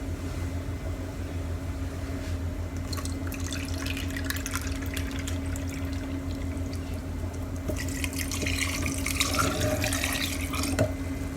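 A cup of water, about 236 ml, poured into a blender jar over banana for a smoothie, a steady trickling pour with splashing that grows busier toward the end over a low kitchen hum.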